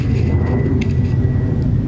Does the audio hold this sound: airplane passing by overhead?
yes